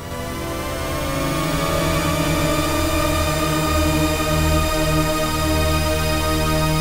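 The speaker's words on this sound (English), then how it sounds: "This is the sound of THX." A synthesized recreation: a thick swarm of many sustained tones that swells in and holds as one loud, dense, shimmering chord.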